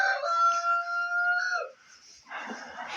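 A rooster crows in a long, drawn-out call close by, followed by a brief pause and then a rougher burst of chicken clucking and squawking.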